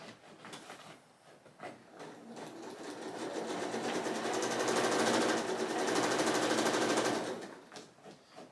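A sewing machine chain-pieces small quilt patches into four-patch units, running in a continuous fast mechanical whir that builds in the middle and stops, with light handling noises at the start and end.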